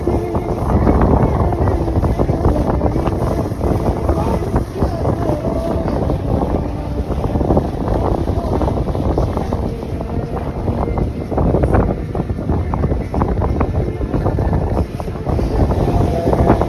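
A cruise boat sailing out onto open sea, heard from the front of the deck as a loud, steady rush of wind buffeting the microphone over the churn of water and engine, continuous throughout with no voices.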